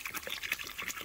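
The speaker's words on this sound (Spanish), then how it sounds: "El agua se lo vamos a ir echando poco a poco." Water poured little by little into a cement mix for homemade flower pots, giving a steady, close splashing and trickling with uneven bursts throughout.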